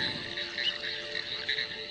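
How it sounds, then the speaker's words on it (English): Slender tree frogs croak steadily at the reedy edge of a lake, a dense, continuous chorus of overlapping rasping calls close by with no voices. "Very rich with the slender tree frogs around here because of the type of reed that we're close to."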